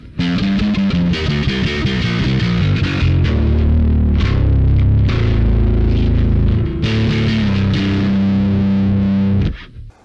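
An electric guitar plays through a Tech21 StreetDriver48 distortion pedal set to maximum, producing loud, thick, saturated chords that sustain for several seconds, then stop abruptly.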